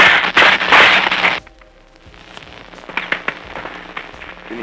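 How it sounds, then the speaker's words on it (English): Combat sounds from 1944 recorded audio of the Battle of Kwajalein: a dense burst of crackling gunfire opens, then sporadic sharp cracks and pops continue more faintly. "You can hear actual gunshots and fires in this recording"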